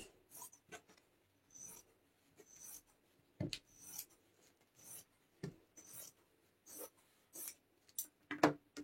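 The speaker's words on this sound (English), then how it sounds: "now I'm just going to take my scissors" Scissors cutting a folded piece of material in half, a series of short crisp snips and rasping cuts spaced irregularly over several seconds, fairly quiet and close, with no talking.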